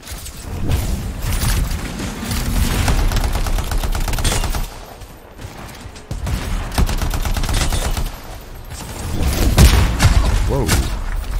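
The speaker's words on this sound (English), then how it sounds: "Fired a mortar at me." Mortar fire and weapon fire in the video game Anthem: sustained loud bursts of gunfire and booming impacts that keep coming throughout, with brief lulls, close and heavy.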